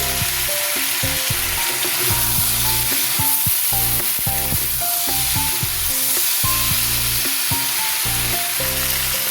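Drumstick stalks and other vegetables frying in a pan for a vegetarian chorchori with grated ginger and cumin powder, giving a steady broadband sizzle under melodic background music.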